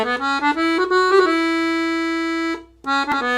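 A 120 bass accordion plays two short melodic phrases, reedy notes moving quickly then holding a long sustained tone, a brief pause, and a few more notes, close and solo.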